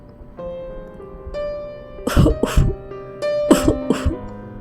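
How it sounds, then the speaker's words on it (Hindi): A person coughs and clears their throat in a few harsh close bursts, used as a horror story sound effect. The coughs sit over a low, eerie music bed. "जैसे कोई खांस रहा हो"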